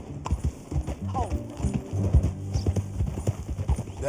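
Hooves clip-clop at a steady walking pace on a horse in the Red Dead Redemption 2 video game, close and clear, while people talk over the footsteps.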